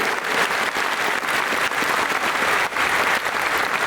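An audience at a Western Michigan University College of Aviation event for FedEx's Boeing 727 donation claps in sustained, dense applause, loud and steady throughout the short stretch.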